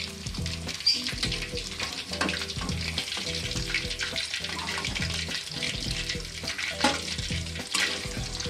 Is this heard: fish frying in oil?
yes